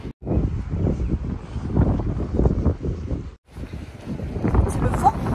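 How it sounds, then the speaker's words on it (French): Cold wind blusters against the microphone outdoors during a walk on a sunny, chilly day, with steady low rumbling gusts and a brief lull, while a person talks over it. "C'est le vent qui gâche tout."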